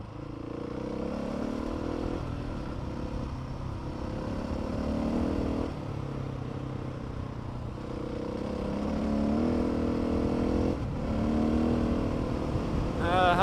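Husqvarna motorcycle ridden along a rough trail with a steady, continuous engine drone and rising revs, close and fairly loud throughout, with rattling clatter over the terrain.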